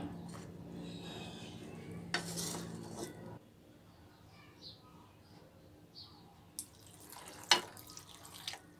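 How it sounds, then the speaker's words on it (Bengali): A spatula stirs and fries spices with bottle gourd in a pan, giving quiet, intermittent clinks and scrapes of utensil against cookware with a few louder knocks. "এবার আমি ভালো করে মশলাটাকে লাউয়ের সঙ্গে এভাবে"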